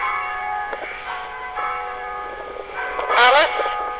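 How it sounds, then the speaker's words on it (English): Church bells ringing in Hawstead, Suffolk, heard from a churchyard, a series of clear, sustained bell tones struck at intervals, moderately distant and resonant, with a brief higher sound near the end. "Oh, listen, you can hear the bells ringing."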